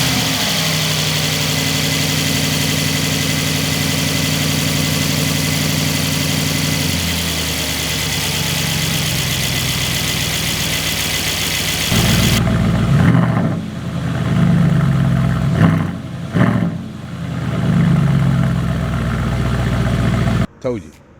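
A 2025 Aston Martin Vantage engine idles with a steady, deep burbling drone, then shifts to a rougher, lower rumble with a few throaty revs and pulses before cutting off near the end.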